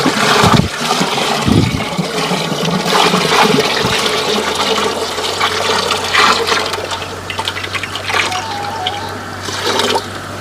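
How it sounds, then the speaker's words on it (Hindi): Old jaggery being stirred and dissolved into water for jivamrit, a natural farm fertilizer, giving continuous loud sloshing and swirling water with trickles and splashes throughout. "अब इसको भी हम ठीक तरीके से घोल देते हैं,"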